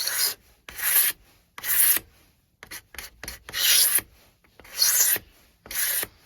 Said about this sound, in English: the other technique is you can use a scraper, cabinet scraper, and you can hold it on at a slight angle, slight bend.